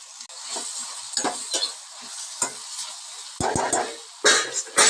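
Onion and elephant foot yam sizzle and crackle in hot oil, with a spoon stirring and scraping the pan a few times, close by and without talking.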